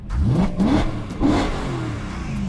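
A 2012 BMW M3 4.0-litre V8 revs hard in several rising bursts, loud and close, its deep rumble swelling and settling between throttle blips.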